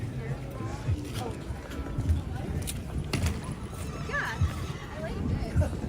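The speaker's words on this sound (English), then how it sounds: "don't know if you heard the horse." A horse neighs and whinnies amid New York City street noise on Fifth Avenue, with hooves clopping and people talking nearby.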